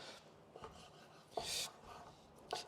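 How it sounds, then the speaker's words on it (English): A knife slicing squid into bite-sized pieces on a board: a few soft, close cutting strokes and scrapes, faint and spaced apart, with no talk. "Then I'm just going to cut this into nice kind of bite-sized pieces"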